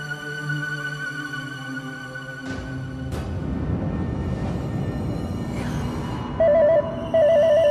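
An electronic phone ringtone sounds in a Hindi crime drama scene, starting as a steady tonal pattern over music and then chirping in short repeated bursts near the end, fairly loud and prominent.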